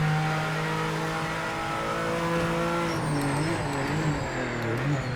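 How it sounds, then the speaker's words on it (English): A GT3 race car engine in Project Motor Racing, a loud, close, continuous tonal roar holding steady revs before dropping and climbing again through gear changes, with faint tire noise. "This is definitely the best sounding GT3 in the game that I've driven."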